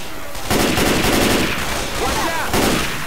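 Dense, loud gunfire from the video game Left 4 Dead 2, sustained volleys of rapid shots swelling in waves with short lulls, with faint voices now and then.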